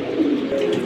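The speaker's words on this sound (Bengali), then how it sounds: "আরেক পেয়ার মিলিটারি কবুতর" Military breed pigeons coo, a short, low, soft throaty warble heard close and alone.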